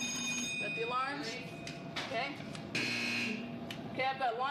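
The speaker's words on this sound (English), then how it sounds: "Set the alarms." An alarm sounds in a military missile launch control setting, a warbling, sweeping electronic tone rising and falling repeatedly with steady pitched beeps, loud and continuous, with voices mixed underneath.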